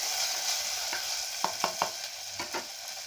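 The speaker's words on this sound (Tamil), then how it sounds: "ஒரு 1/4 கிலோ வெங்காயம் போட்டுக்கலாங்க. இதையும் நல்லா வதக்கி விடலாங்க." A quarter kilo of onions sautés in a pan, crackling and sizzling softly, with short sharp scrapes and taps of a stirring spoon against the pan in quick clusters.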